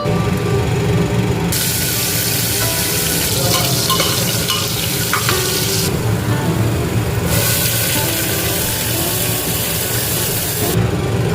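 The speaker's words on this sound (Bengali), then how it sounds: "এই বাটা মশলাটাকে আমরা দিয়ে ভালো করে কষে নেব আর মাঝখানে আলুটা দিয়ে ওই কষানোর মাঝখানে ভালো করে কষে নেব" Spice paste of ginger, onion, garlic, chili and tomato being sautéed with potato in oil inside a pressure cooker, a loud continuous sizzle with repeated stirring and scraping.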